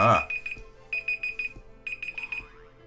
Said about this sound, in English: that was my timer saying that I'm just over the time limit